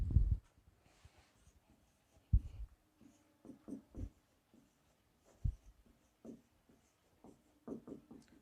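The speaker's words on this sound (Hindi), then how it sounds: "मुझे समझाना है इसलिए मैं एक एक लाइन लिख रहा हूँ" Chalk taps and scrapes across a classroom board as lines are written during a chemistry lecture, coming in short irregular strokes and clicks with pauses between, close and fairly quiet.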